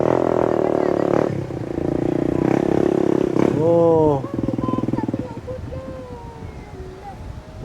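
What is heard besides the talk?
motorcycle climbing uphill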